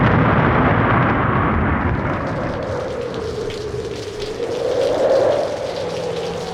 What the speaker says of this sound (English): It's a stormy night on Interstate 80. You're driving east, and the rain is coming down heavy on the windshield.